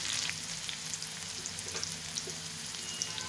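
Red pumpkin pieces sizzle in hot oil with browned garlic, curry leaves and green chili, a steady close frying hiss with faint crackles and occasional stirring taps throughout.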